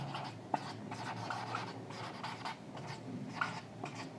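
Chalk or pen scratching out figures during a geometry lesson on quadrilaterals, a steady run of short rubbing strokes in uneven rhythm with a few sharper taps, close and unaccompanied by speech.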